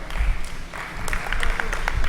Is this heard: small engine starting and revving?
no